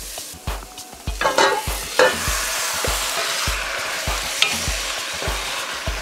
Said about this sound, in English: Okay, so I'm going to let this brown for a bit.